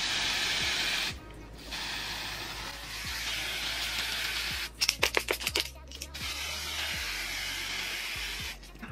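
Long continuous hiss of an aerosol hairspray, broken by a brief pause and a short burst of rapid clicks or sputters before spraying resumes.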